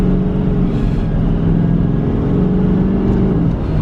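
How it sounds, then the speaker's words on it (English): A diesel pickup truck towing a loaded trailer of about 8,000 pounds accelerates, its engine giving a loud, steady low rumble and drone heard from inside the cab. "Let's see how this thing accelerates with a loaded trailer."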